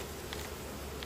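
Agitated honey bees swarm around an opened hive, a dense, steady buzzing drone filling the air close by, with a few individual bees passing nearer.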